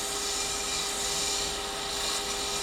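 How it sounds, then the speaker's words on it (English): A wood lathe spins in reverse while a turned bowl is sanded, giving a steady, continuous whirring hum with a fixed motor whine and hissing abrasive friction, close and unbroken throughout, with no talking. "this lathe is now in reverse, the opposite of what it would normally be"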